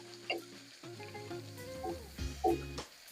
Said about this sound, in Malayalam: നമുക്കിങ്ങനെ വഴറ്റി കൊടുക്കാം.